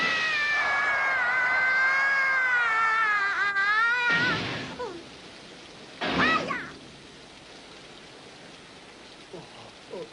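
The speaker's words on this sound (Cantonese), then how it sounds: "好得人落雨添" Rain in a Cantonese-dubbed baseball cartoon: a steady, even hiss runs throughout, under a long wavering mewing wail at the start and two short, sharp bursts later.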